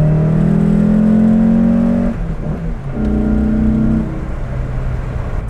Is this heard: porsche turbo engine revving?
yes